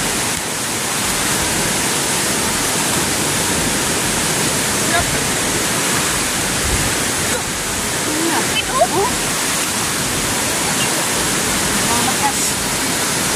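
Roaring floodwater of the Piñan river rushes loud and continuous, a broad steady wash with a few short exclamations from people nearby.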